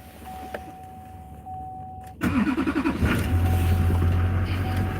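2003 Chevrolet Silverado engine starting after the key is turned: a faint electronic tone first, then a brief rhythmic starter crank that catches into a steady idle, close and clear.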